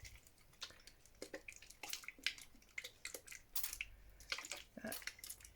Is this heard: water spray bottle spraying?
yes